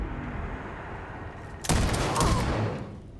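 Sci-fi gunfire from Starfield erupts after a quieter stretch, a dense close volley of shots filling the second half loudly with no voices over it.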